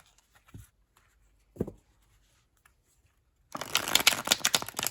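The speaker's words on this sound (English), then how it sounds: "I think that you will really enjoy shuffling these. These shuffle like a broken in deck." A thin-cardstock tarot deck is handled with a couple of soft taps and flicks, then shuffled in a dense, crisp riffle of card noise that runs alone for the last second and a half.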